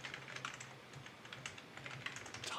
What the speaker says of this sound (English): Good typing there.